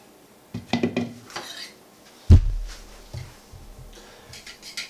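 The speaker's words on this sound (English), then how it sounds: "using a two-pronged fork, whisk together until it's just blended" Cupcake batter is whisked with a two-pronged fork in a bowl. It gives quick clinking taps against the dish, then one sharp louder knock with a short ringing tail, followed by fainter scattered clicks. There is no talk.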